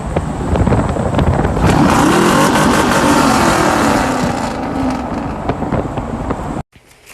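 A lifted truck engine revs hard and loud, the roar rising and holding steady for several seconds before cutting off abruptly near the end, with no talk over it.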